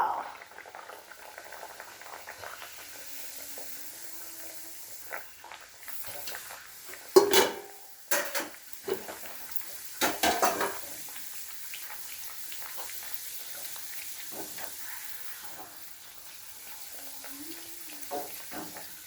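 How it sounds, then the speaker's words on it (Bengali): A pan of peas, potato and tomato curry cooking with ginger and cumin paste while something else fries nearby: a soft continuous bubbling sizzle with scattered clinks and stirring scrapes, louder bursts in the middle. "ওইদিকে ভাজা হচ্ছে, এইদিকে তরকারি রান্না হচ্ছে।"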